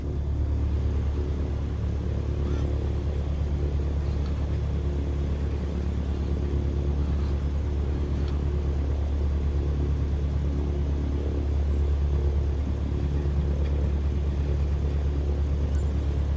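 Aircraft engine idling near 1,000 RPM while taxiing in Microsoft Flight Simulator 2020, a steady low droning rumble that stays constant and fairly loud throughout, with no speech.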